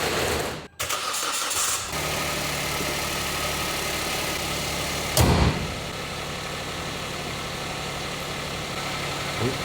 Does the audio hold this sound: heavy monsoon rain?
no